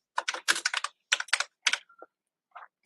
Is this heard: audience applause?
no